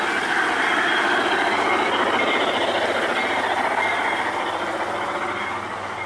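A model train runs on an outdoor garden track at a model train show, its steady rumble and clickety-clack wheel rhythm holding constant and fairly loud, with faint wheel squeal.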